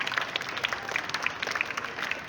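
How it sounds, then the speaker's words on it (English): Students and teachers at a school morning assembly applaud a library week presentation, a fairly faint, even wash of many hands clapping heard from some distance. "give a big round of applause to Miss Zunaira and grade 8B for today's ass"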